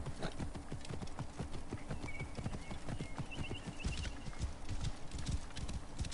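Horse hooves clip-clopping in Assassin's Creed Origins, a brisk continuous trot of steady hoofbeats throughout, close and loud, with faint bird calls in the background and no talking.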